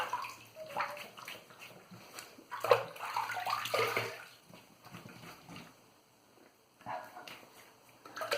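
Tap water runs and splashes as a wet-shaving razor is rinsed under the faucet, a faint uneven gush that swells and fades, drops away briefly, then returns.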